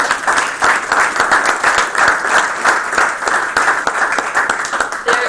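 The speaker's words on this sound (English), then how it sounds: "Give these folks a round of applause." A school board meeting audience breaks into loud, close applause, many hands clapping in a thick, continuous wash throughout.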